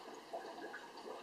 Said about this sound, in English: the water splashes